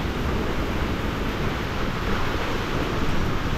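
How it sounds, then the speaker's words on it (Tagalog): Strong wind from Typhoon Kristine shaking a house roof makes a loud, steady roaring rush that fills the whole stretch without a break and with no voices. "Sobrang lakas ng hangin, uga na yung buong namin."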